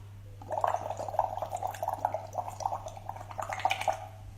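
Bubbles blown through a straw into a glass of water, a continuous gurgling burble of small pops and rushes that keeps going for several seconds, close and soft over a low steady hum, with no talking.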